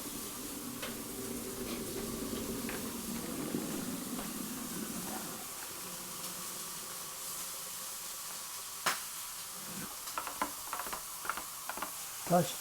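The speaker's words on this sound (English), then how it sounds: "First thing we've got to do is to fry the steak." Steak sizzles and spits steadily in a hot pan, then fades into quieter crackling with a few sharp clicks and taps near the end.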